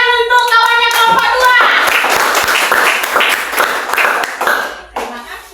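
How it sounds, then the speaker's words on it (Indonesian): Children in a Grade 4 Christian religion classroom clap for a presenting group: a brief voice, then a dense, lively burst of hand claps that fills the room and tapers off near the end. "Tepuk tangan untuk kawannya kelompok"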